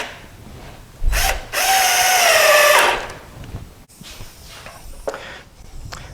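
A power drill drives long screws into a wooden squirrel feeder, one sustained whirring burst of about two seconds with a short rev just before it, followed by faint handling clatter.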